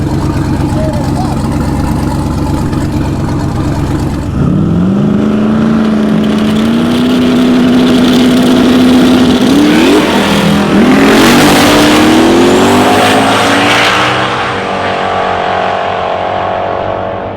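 A Camaro drag race car at LS Fest launches and accelerates hard down the strip, its engine note climbing through loud rising revs and shifts before fading toward the end.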